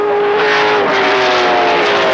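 Trans Am race cars at Laguna Seca in 1982 roar past loudly, a sustained high engine note with slight pitch shifts as they pass close by.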